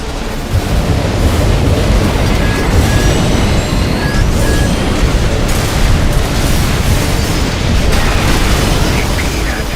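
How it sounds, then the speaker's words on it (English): Video game explosions in Armored Core 6 after a detonation produce loud, continuous rumbling booms and crashes throughout. Mech gameplay sounds are layered on top. "Alright, detonated that."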